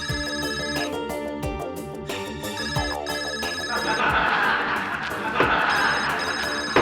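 An electronic phone ringtone in a courtroom plays a bright, repeating melodic pattern, loud and continuous, with no pauses between phrases.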